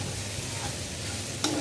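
Beef tripe frying in a pan, crisped and catching on the bottom, sizzling steadily up close while being stirred, with a short sharp spoon scrape near the end.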